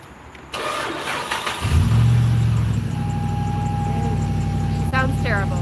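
A truck engine cranks and catches after a remote start, then settles into a loud, rough, steady idle close by, with a brief clunk near the end.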